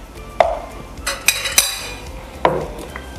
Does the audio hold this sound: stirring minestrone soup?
yes